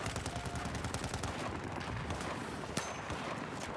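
Gunfire in Battlefield 4 with dense rapid automatic bursts running throughout, fairly loud and continuous, with one sharper louder shot near the end.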